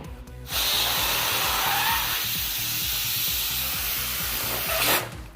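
A Huggy Wuggy balloon is filled by an electric pump, a steady loud airy hiss over a rapid mechanical pulsing that starts abruptly, runs for about four and a half seconds, then cuts off.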